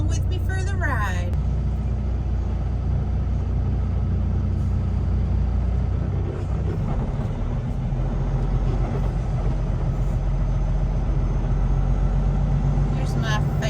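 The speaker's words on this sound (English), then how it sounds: "We're bobtailing right now, so you can come along with me for the ride." A semi truck cab running bobtail with no trailer, its engine a steady low rumble with road noise throughout the ride while someone talks over it.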